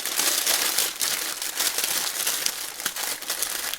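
Parchment paper crinkles steadily as a grey mullet is wrapped up tightly for baking, a close, continuous crackling and rustling with irregular sharper crunches throughout, with no talking.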